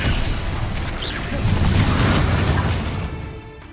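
A loud, sustained fiery blast from the Confringo spell in Hogwarts Legacy rumbles and crackles for about three seconds before fading out.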